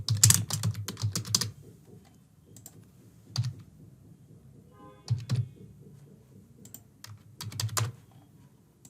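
Typing test credit card details on a computer keyboard during an online checkout, with bursts of close, quiet key clicks separated by short pauses, no talking.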